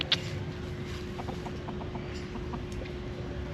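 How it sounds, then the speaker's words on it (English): Chickens and hens on a street in Georgetown, Penang give a few soft, scattered clucks at a distance over steady outdoor background hum. "What are all these chickens and hens doing"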